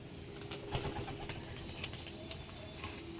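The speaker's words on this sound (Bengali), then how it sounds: "এই যে পায়রা চলে যাচ্ছে" Several quick bursts of wing flapping as pigeons take off, with soft cooing in a quiet background hum.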